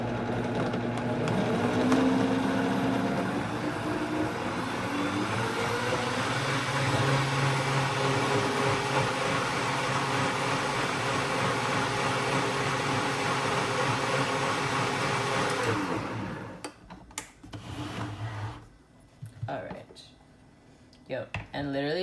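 A blender pulses hot chocolate with spices, melting the oils as it blends; a loud, steady motor whir runs for about sixteen seconds, then cuts off, leaving quieter scattered handling sounds.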